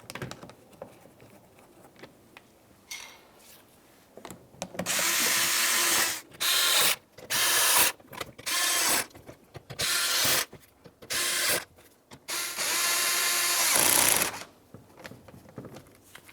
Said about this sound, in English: start in all of your mounting bolts, and then you can snug them up